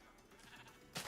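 A sheep bleats in Minecraft Beta 1.7.3, a single short, fairly loud bleat near the end following a quiet stretch of low background game ambience.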